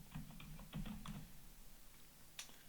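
Quick light keystrokes on a computer keyboard as a command is typed in Rhino 3D modelling software, a short burst of about a dozen soft clicks followed by a pause and one final key press, quiet and close.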